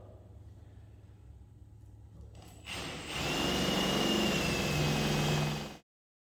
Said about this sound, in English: I'm drilling the little holes with the 3/8 because that's going to be our final hole size